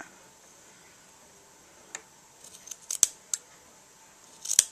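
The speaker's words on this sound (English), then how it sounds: "you're going to cut out how much fabric you want" Scissors snipping through fabric while pillow pieces are cut out, a few quiet scattered cuts, with a sharper crisp snip near the end, faint against a hushed room.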